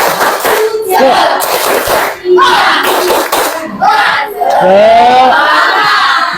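A standing crowd at an Islamic religious education teacher training session claps a loud rhythmic spirit chant, patterned bursts of hand claps broken by short pauses, with shouted group voices rising into a sustained cheer at the end.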